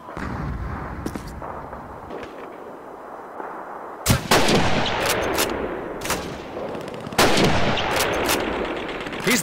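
Sniper rifle gunfire in the World War II shooter Call of Duty 2, fought through City Hall: loud, sharp cracks with rolling echoes ring out repeatedly over a constant battle din, two especially heavy blasts standing out near the middle and later.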